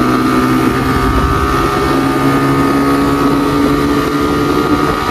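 Suzuki Gixxer motorcycle accelerating hard in third gear on an open road, a steady loud engine drone with strong wind rush over the microphone, holding continuously throughout.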